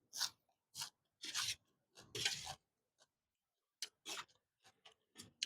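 Someone eats Thai cucumber salad (tam bak taeng), crisp crunchy bites and chewing close to the mic in irregular bursts separated by short silences, with no talking.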